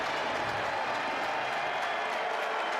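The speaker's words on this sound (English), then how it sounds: "Crowd getting into it here at Scott Stadium." A football stadium crowd at Scott Stadium cheers and roars in a dense, sustained wash of noise during a Louisville vs. Virginia college game, steady and unbroken for a few seconds.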